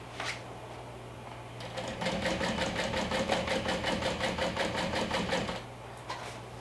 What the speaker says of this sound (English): I'm going to top stitch at about an 1/8 of an inch away from the fold